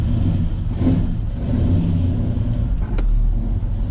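A 1965 Chevrolet Biscayne with a 1969 396 big-block V8 pulls away, its loud, steady engine rumble rising and swelling up close, with a brief sharp knock near the end.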